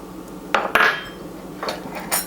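Egg yolk and pastry mix handled in a mixing bowl, with a few brief clinks and scrapes of utensil against the bowl in quick bursts, close and moderately loud, no talking.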